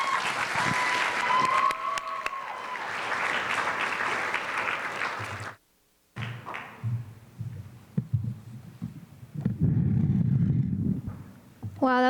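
Audience at a youth summit applauding after a speech, loud sustained clapping for several seconds, then a brief gap followed by scattered clapping and talk.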